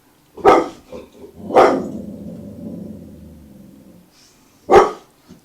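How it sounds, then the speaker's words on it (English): A dog barks in the background, a few sharp separate barks with one longer rough growling bark between them, fairly close and loud, with no talking. "that is a barking dog in the background"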